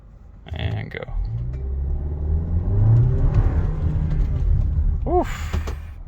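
A 2021.5 VW Atlas with a tuned 2.0T engine accelerates in race mode, its engine rumbling up in a loud, sustained pull with rising revs, with a brief voice near the end.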